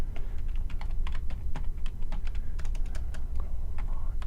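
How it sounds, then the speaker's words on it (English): Rapid, irregular typing on a computer keyboard, close and clear, with keystrokes clattering continuously throughout and no voices. "let me see if I can type again."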